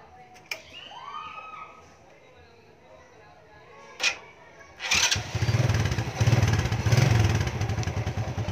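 A motorcycle engine fitted with a converted DC CDI ignition starts after a few brief clicks and clatters, then settles into a loud, steady running putter close by, with a person speaking briefly before it fires.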